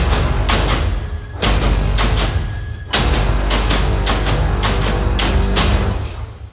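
Loud, deep brass notes from a sample library ring out as a run of sustained low chords, each struck with a firm attack and held before the next, filling the space without pause.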